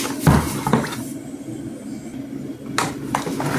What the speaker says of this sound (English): so now I'm gonna put the turkey in the pot guys